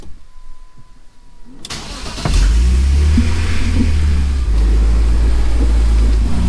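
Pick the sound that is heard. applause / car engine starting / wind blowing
car engine starting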